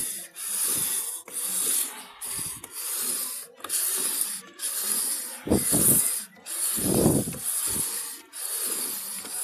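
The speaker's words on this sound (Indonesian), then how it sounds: "ngamplas mangkok yang kayak gini ya, mau aus bergaris tapi merata, pakai amplas yang halus aja" Steady scratchy rasping of fine sandpaper rubbed back and forth on a metal CVT pulley, in long continuous strokes with brief pauses, close up.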